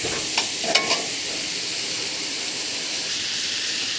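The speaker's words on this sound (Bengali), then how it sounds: "এরপর আমি একটু ভেজে নিব ভেজে নিলে ভালো হয়" Chicken pieces fry in a pan for a taro and chicken curry, giving a loud, steady, broad sizzling hiss, with a few brief stirring scrapes near the start.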